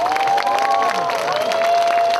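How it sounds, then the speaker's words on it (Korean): An audience applauds and cheers at the opening ceremony of the 2023 Buddhist culture festival as a b-boy team is welcomed, a dense, steady wash of clapping and crowd noise with a sustained whistle-like tone above it. "여러분 큰 박수와 환호가 필요합니다"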